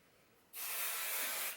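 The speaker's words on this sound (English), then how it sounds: "And then spray it." After a brief quiet moment, a can of hair spray releases one continuous, close hiss lasting about a second onto styled waves, then cuts off abruptly.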